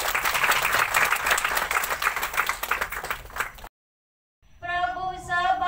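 Loud audience applause at a spiritual program's lamp lighting ceremony, dense steady clapping for several seconds, then a brief silence before clapping and a sustained tonal sound return.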